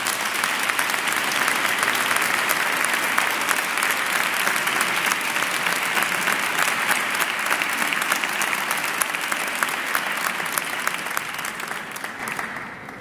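An audience at a charity anniversary concert in a parish church of Nuestra Señora de los Ángeles in Cabanyal applauds a musical group, dense and sustained clapping that holds steady and fades slightly toward the end.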